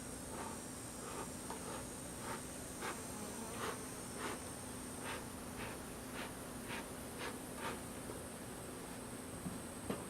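Honey bees buzz steadily at an open beehive, a faint, continuous hum with individual bees passing close in brief louder swells; no talking.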